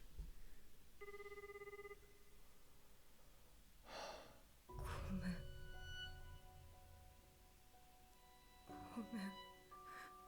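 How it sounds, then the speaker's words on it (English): A telephone rings in several long electronic tonal bursts with quiet gaps between them, fairly faint, with gasps and breathing nearby. "This is a devastatingly long ring."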